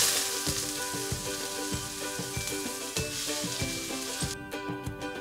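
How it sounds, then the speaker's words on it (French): Onions frying in vegetable oil in a casserole pot give a steady loud sizzle throughout, with regular soft clinks and scrapes of stirring over the top. "dans une cocotte avec 2 cuillères à soupe de cette huile végétale, on va faire revenir les oignons."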